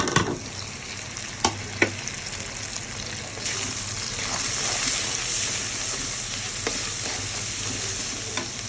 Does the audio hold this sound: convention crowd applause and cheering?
no